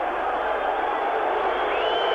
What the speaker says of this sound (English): Well, the crowd doesn't like it.